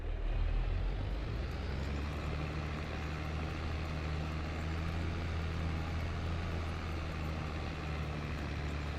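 A JCB machine's engine in the farming game Farming Simulator 22 rumbles in a deep, steady, meaty drone, loud and continuous throughout with no talking.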